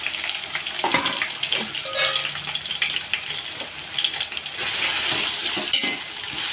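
Onions frying in hot oil for prawn biryani, a steady loud sizzle with crackling and spatters, close up and without speech.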